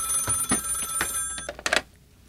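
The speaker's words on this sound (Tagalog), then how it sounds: "telepono!" Telephone bell ringing in short bursts, a few bright rings spaced apart with a louder ring near the end before quiet.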